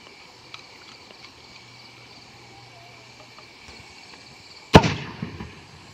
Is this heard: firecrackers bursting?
yes